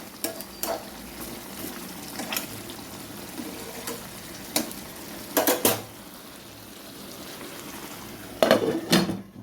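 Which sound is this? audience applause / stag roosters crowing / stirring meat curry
stirring meat curry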